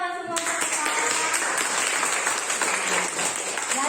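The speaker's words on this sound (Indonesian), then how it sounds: "Tepuk tangan semua." A school class claps together in the classroom, a steady dense round of applause that carries through the whole moment after a brief voice at the start.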